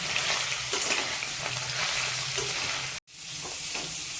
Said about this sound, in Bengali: সেদ্ধ কিন্তু একদমই হয়নি এটা খুব ভালো করে ভেজে নিতে হবে